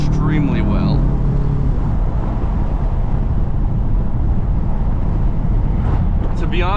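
A BMW XM Label Red hybrid driven hard gives a loud, continuous engine and road roar with heavy wind rush, steady throughout, while someone talks over it.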